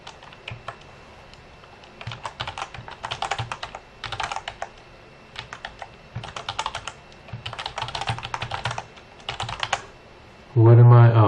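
Bursts of quick typing on a computer keyboard while using FreeCAD, clicks in rapid clusters separated by short pauses, close and moderately loud, ending with a louder thump.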